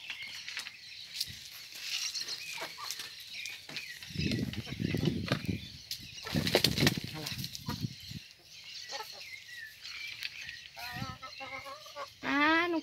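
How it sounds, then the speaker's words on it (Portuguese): Chickens in an overgrown vegetable garden flap and scuffle in bursts of rustling wing beats and scratching, with clucks and a rooster-like call near the end, while people talk nearby. "Ai, cuidado com as galinhas."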